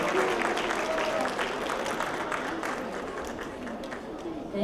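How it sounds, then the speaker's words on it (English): An audience applauds a poster contest winner at a Hindu Heritage Month launch event, a steady, dense patter of clapping from many hands that fades slightly over several seconds, with some voices underneath. "Let's give him a round of applause."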